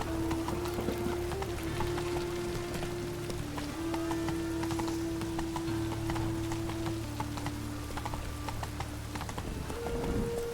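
A horse gallops through rain in The Witcher 3, its hooves thudding in a steady rhythm under a constant wash of rainfall, with a low droning tone running through and no voices.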